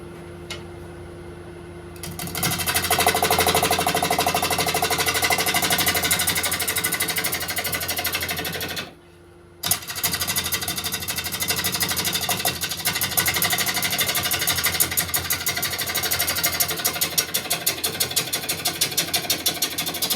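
A wood lathe hums and whirs steadily while a bowl blank spins and a tool cuts, speeding up after a brief pause, with a dense buzzing texture throughout and no talk.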